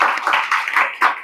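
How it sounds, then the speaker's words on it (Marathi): An audience clapping at a school results and prize ceremony, a short close burst of several hand claps in an uneven rhythm. "टाळ्या झाल्या पाहिजेत पुन्हा"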